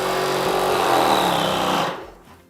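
Wagner Control 150M airless paint sprayer pump running in prime mode: a steady, loud mechanical buzz held close for about two seconds, then cutting off abruptly with no talk.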